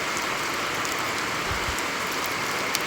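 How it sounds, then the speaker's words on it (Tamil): Heavy thunderstorm rain pours in a dense, steady roar, loud and close, with faint low rumbles partway through and no talk. "மழை எப்படி பெய்யுதுன்னு பாருங்கள். சரியான மழைங்க."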